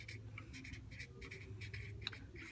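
Pen or pencil writing out a number in words during a classroom place-value spinner game, close scratchy strokes in quick rhythmic bursts over a low steady hum, with no talk.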